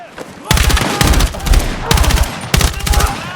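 Loud, close gunfire bursts from the video game Battlefield 6 come in several heavy rapid volleys separated by brief pauses, with an explosive grenade-like boom amid the shooting.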